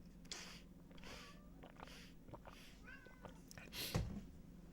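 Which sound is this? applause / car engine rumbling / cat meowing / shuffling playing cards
cat meowing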